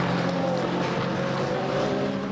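Engine noise from cars on track during the 2021 4 Hours of Portimão endurance race at the Algarve circuit, a steady loud roar holding throughout with no break.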